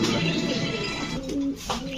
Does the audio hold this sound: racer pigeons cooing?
yes